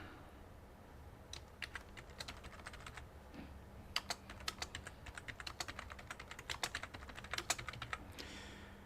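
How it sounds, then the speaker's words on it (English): Close-up typing on a computer keyboard, quick irregular bursts of light key clicks that start after a pause and continue steadily, quiet and without speech. "let me get the title typed in over here in the chat"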